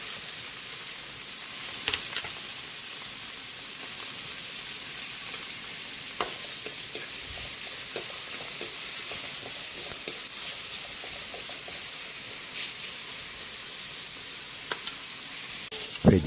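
Tomatoes frying in a pan for sinigang give off a loud, steady sizzle and hiss, broken now and then by the clicks and scrapes of stirring, with no voices.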